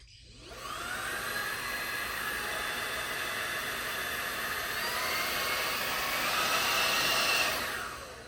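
A Milwaukee M18 cordless vacuum runs steadily for about eight seconds, with a whining motor and airy rush that spin up at the start, swell slightly near the end and wind down. It is close and loud, with no talking.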